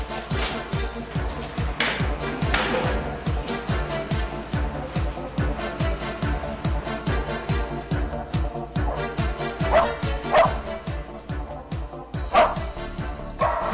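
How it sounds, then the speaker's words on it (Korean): A rescue dog barks repeatedly and steadily during a disaster search exercise, the sharp close barks sounding over a low background, with occasional louder yips. "구조견이 한 곳을 가리키며 짖는다 싶으면 핸들러를 다가가게 합니다."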